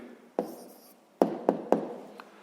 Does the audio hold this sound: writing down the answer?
yes